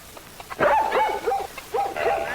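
A dog barks several times in quick, yappy bursts, close by, with short whimpering yips between barks.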